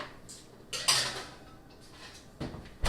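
A pan of stuffed jalapeño mummies goes into the oven: faint metallic clinks and rattles of the pan and rack, with a couple of soft thumps at the end, close by and quiet with no talk.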